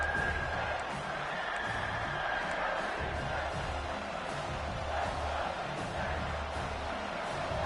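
A football video game stadium crowd roars in a steady, dense wash of cheering while the defense holds in the red zone, continuous and mid-level throughout with no clear voices.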